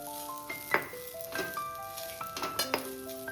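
Garam masala and turmeric are stirred into prawn masala in a pan: a few quick spoon clinks and scrapes over a soft sizzle, with tuneful background music underneath.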